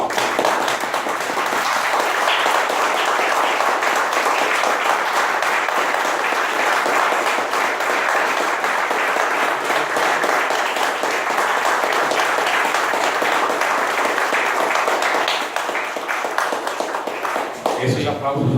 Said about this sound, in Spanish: Yo voy a pedir un fuerte aplauso para dejar sellada esta conferencia magistral